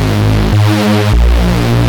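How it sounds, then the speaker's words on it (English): A detuned saw-wave synth bass runs through an amp that adds mid-range crunch and sizzle, two loud, gritty sustained notes alternating in a brief phrase. "add some nice mid-range crunch and sizzle"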